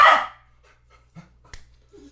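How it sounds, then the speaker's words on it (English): Bolt, a pet dog, lets out one loud bark at the start, followed by a few faint, sporadic yips and small sounds in a quiet room. "that's Bolt, my dog. He might sporadically bark during the stream"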